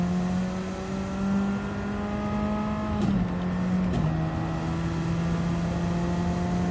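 A race car engine in Gran Turismo 7 drones loudly and steadily, with two quick upshifts around three and four seconds that briefly dip and shift its pitch before the roar settles again.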